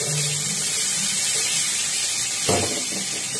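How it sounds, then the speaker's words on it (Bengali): Hot water poured into a pan of Bengali dum aloo potato curry, a steady loud rushing pour with a brief splash partway through, no voices. "ভালো মতো কষানো হলে দিয়ে দিতে হবে পরিমাণ মতো গরম জল।"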